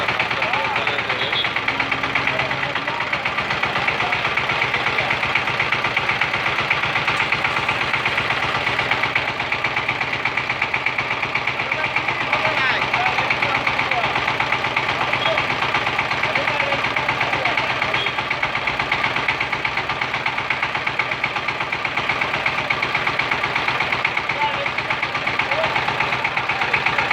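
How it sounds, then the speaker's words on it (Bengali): A Saifang 16 horsepower power tiller engine running in a field, a loud, steady, close chugging drone with mechanical knock that continues unbroken throughout. "পাওয়ার টিলার চলে যাবে"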